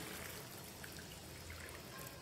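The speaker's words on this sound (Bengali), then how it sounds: "এই গরম জল ঢেলে দিচ্ছি" Hot water pours into a pan of chicken curry, giving a soft, continuous trickling splash throughout, quiet and close.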